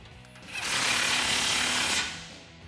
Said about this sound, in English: Grab your 14 millimeter socket and tighten these down.